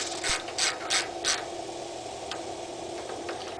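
Screws being driven into an aluminum part, giving four soft, evenly spaced ratcheting clicks close by, with quieter ticks following on a steady background hiss.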